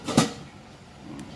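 A lid is set onto a pot of salsa ingredients at a rolling boil, giving one close metallic clatter followed by the quiet bubbling hiss of the pot, with a faint second tap near the end.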